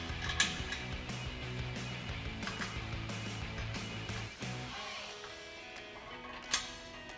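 Ratchet clicking while T40 Torx bolts are tightened on a Barricade HD overland rack bracket on a Ford F-150, a steady run of close, quick mechanical clicks with a few sharper knocks.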